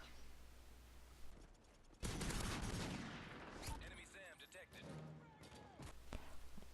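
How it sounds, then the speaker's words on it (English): Double .44 revolvers firing in Modern Warfare 3, a loud close burst of shots followed by several sharper scattered reports and clicking mechanical handling sounds, with a voice talking over parts of it. "insert a little clip of me from Modern Warfare 3 with double 44 revolvers getting a triple kill"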